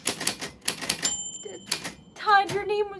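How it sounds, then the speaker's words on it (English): Typewriter clatter and a ringing bell sound effect, rapid bursts of keystrokes followed by a bright ding, heard close under a person talking. "you fell on the typewriter bell"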